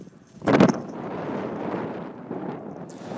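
Wind gusts across a golf course near the green during a chipping lesson, buffeting the microphone with a loud rush early on, then settling into a steady low rumble.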